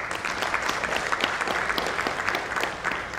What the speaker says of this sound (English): So we need to give a round of applause to all of them.